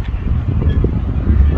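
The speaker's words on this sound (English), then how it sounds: "Oh, it's windy out here." Low, rumbling wind buffets the microphone steadily outdoors at a food truck rally in Fairbanks, Alaska, a dull roar filling the short clip.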